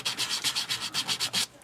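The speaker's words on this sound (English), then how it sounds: "you're not doing a big sanding, you're just kind of smoothing these cut edges a little bit" Quick, rhythmic back-and-forth sanding strokes on the cut edges of polymer clay, about nine even rubs in a row, close and fairly soft, then stopping.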